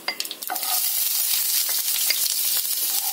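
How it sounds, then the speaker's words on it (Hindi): Onions and cumin frying in hot oil with mustard seeds, a bright crackling sizzle that starts with several sharp spattering pops and settles into a steady hiss, close and without talk. "तेल हमारा गरम हो गया, हमने उसमें राई डाल ली है, अब हम उसमें आधा चम्मच जीरा डाल देते हैं, प्याज भी डाल देते हैं।"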